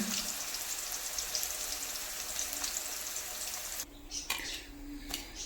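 Onions frying in hot oil for a Thalassery dum dish give a steady, dense sizzle and crackle throughout, close by, with a brief quieter break and a few sharp spatters near the end.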